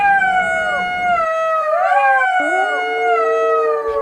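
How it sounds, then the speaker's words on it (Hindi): Several jackals in an animated story howl together in a loud, layered chorus of long wavering, rising and falling wails that overlap and bend in pitch, continuous and close, with no speech. "सियार की आवाज खेत के कुछ दूरी पर रहने वाले किसान के कानों में पड़ गई।"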